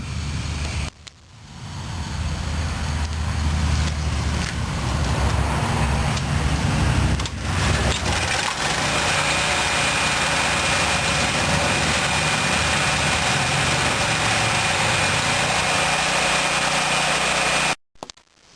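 A portable generator, set up to backfeed a house, runs steadily at idle with a continuous low engine drone that starts after a brief dip and holds loud and even until it stops abruptly near the end.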